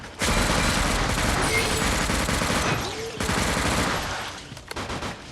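Sustained automatic gunfire at zombies in Unkilled makes a loud, dense rattle that runs almost the whole time. It dips briefly in the middle and then fades near the end.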